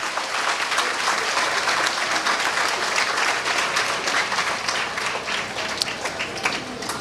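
Applause from a gathered crowd at the inauguration of a technical and vocational high school in Haiti, a steady wash of many hands clapping, moderately loud and sustained with a few sharper individual claps.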